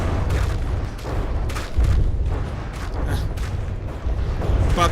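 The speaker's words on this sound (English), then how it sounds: "I'm not even sure which guns I'm listening at the moment, because they're guns everywhere" Heavy ship cannons boom in From the Depths, a dense, continuous barrage of deep overlapping shots and rumbling impacts that rolls steadily without pause.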